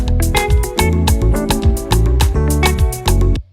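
A thin, clean electric guitar sits dead center, strumming chords in a steady rhythm of bright, repeated attacks that ring out for several seconds before stopping abruptly.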